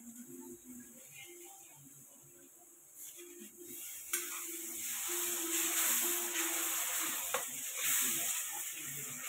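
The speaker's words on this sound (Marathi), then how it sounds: "मसाले आता मस्त परतले ते बघा. तेल सुटूस तर असे तेल सुटूस तर मसाला परतून द्यायचा." Masala spices fry in oil in a pan, a soft continuous sizzle and hiss that swells louder midway, with faint scraping stirs and a quiet voice talking beneath.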